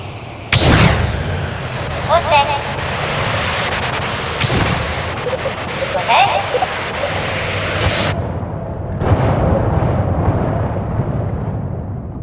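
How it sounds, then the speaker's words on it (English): A rocket crashes into water in the video game Kerbal Space Program 2, heard as loud booming bursts and a dense roaring rumble with sharp cracks, fading to a softer wash near the end. "I think we lost the whole rocket in the water."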